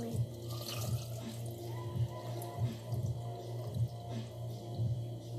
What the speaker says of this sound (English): help me pour this water in